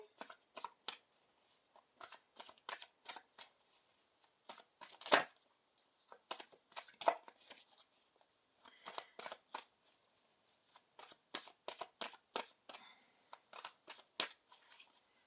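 A deck of Mystic Tarot cards is shuffled by hand in many quick riffling bursts and soft slaps, irregularly paced and close, with quiet pauses between rounds.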